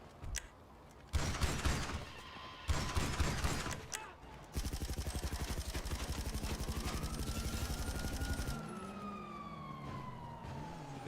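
Fireworks fired at a player in GTA Online, heard as loud crackling bursts and rapid popping volleys, with a siren-like whine and gunfire-style blasts through the middle of the scene.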